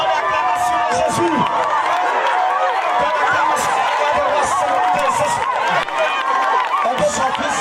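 A church congregation cheers and acclaims Jesus at a prophetic worship service, producing a loud, dense roar of shouting voices, cries and scattered clapping that keeps going throughout.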